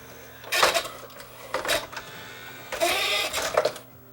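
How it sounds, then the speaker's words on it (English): A Sony MDP-A800K2 laserdisc player with its laser hunting for focus gives off bursts of mechanical whirring and clicking in three or four short clusters, faint and close, with quiet pauses between them. "so you can see the laser, and you can see it hunting for focus"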